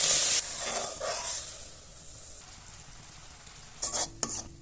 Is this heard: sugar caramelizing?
yes